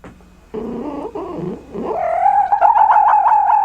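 A fox calls alone at close range: a short raspy bark, then a rising, wavering, whiny cry that grows louder and holds steady toward the end.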